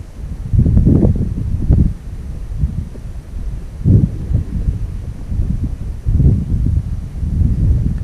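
Gusty wind buffets the microphone outdoors during bass fishing, with a steady low rumble that swells in several surges over eight seconds, loud and close, with no other clear sounds.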